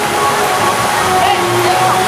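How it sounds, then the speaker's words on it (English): Water rushes and splashes in a broad, steady hiss close by, with people's voices mixed in under the spray. "Here comes some water. It's gonna be shooting around here in a second and jumping over our heads."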